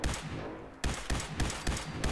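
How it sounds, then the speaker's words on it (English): Rapid bursts of gunfire aimed at super mutants in the video game Fallout 4: a steady stream of shots, then a brief lull and four sharp, loud shots at an even rhythm, with no talk. "So I'm shooting at super mutants"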